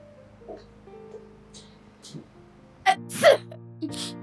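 A person indoors sneezes sharply, once and loudly, after a stretch of quiet with faint background tones and soft sounds, then a smaller breathy burst follows.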